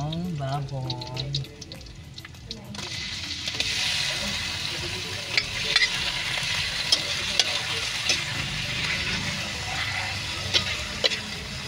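Pork for adobo hits a hot pan and fries, a dense hiss of sizzling with scraping and clinking of a utensil stirring, close and continuous, after a brief bit of talk.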